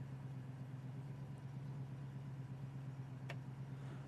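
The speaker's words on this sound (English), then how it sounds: "We just started the car." A 1968 Ford Mustang idles steadily right after starting, its low, even rumble holding constant throughout with no talking, and a brief sharp click cuts through near the end.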